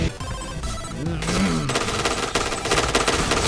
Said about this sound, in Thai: พี่ตาโดนหัวยิงไปเยอะมาก